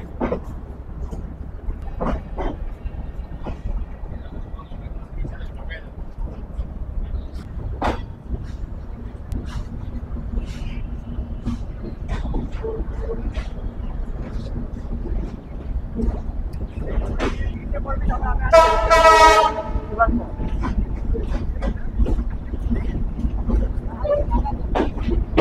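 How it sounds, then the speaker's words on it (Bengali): The Ruposhi Bangla Express intercity train pulls out of Jessore Junction with a steady low rumble and wind buffeting, sharp rail clicks scattered throughout, and a brief tonal horn-like blast near the end. "আমাদের ট্রেন আন্তনগর রূপসী বাংলা এক্সপ্রেস ছেড়ে যাচ্ছে যশোর জংশন থেকে।"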